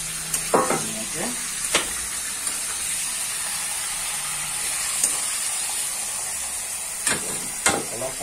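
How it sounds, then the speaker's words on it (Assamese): Chicken frying in a pan with half-fried potatoes and green chilli, a steady hiss and sizzle throughout, with occasional clinks and scrapes of stirring. "অলপ সময় আমি চিকেনটো ফ্ৰাই হ'ব দিম"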